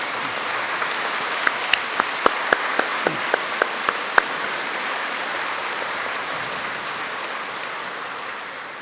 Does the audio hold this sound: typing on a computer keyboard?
no